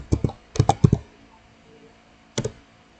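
A computer keyboard is pressed for Ctrl+X and Enter, giving a quick cluster of crisp clicks, a short pause, then two more taps, close and clear in a quiet room.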